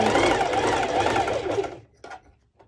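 A serger sews elastic onto bikini bottoms, running with a steady loud mechanical whir for most of the moment before stopping, followed by a couple of faint clicks.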